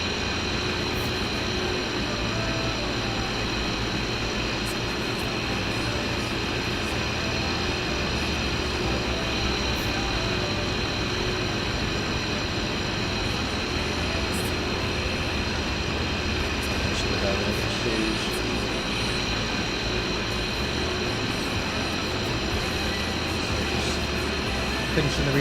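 Steady drone of a Jet2 Airbus A321 sitting at the gate while being refuelled in a flight simulator, a continuous broadband engine and ground-equipment roar that holds constant throughout.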